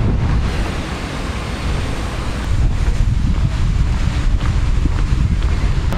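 Rough ocean surf roars continuously on a windy shore at Quarteira, with strong gusts buffeting the microphone. It is loud and unbroken, with no talking.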